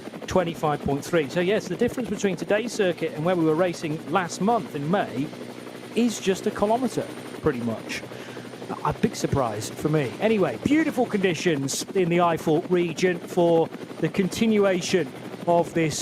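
Helicopter rotor blades thudding in the background over the Nürburgring circuit in the Eifel region during an NLS endurance race, a steady rapid chop running under a commentator talking throughout.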